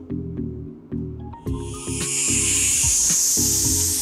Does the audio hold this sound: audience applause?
no